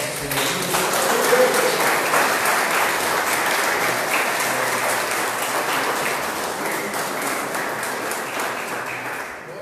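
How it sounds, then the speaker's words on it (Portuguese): A church congregation gives loud, sustained applause during an evening service, dense clapping that holds steady and slowly tapers toward the end. "dando um aplauso forte para o Senhor"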